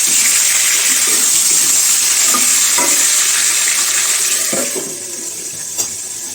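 Chicken pieces frying in hot oil in a covered pan, giving a loud, steady, close hiss with faint crackles that eases somewhat toward the end, no voices.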